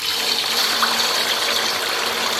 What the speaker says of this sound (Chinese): 咱们油温4成热，把切好的豆腐丝儿给它下到锅中